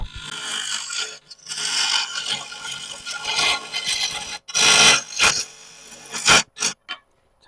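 A bowl gouge cutting plywood turned on a wood lathe, giving rough scraping bursts that start and stop in a series of short and longer cuts, loud and close.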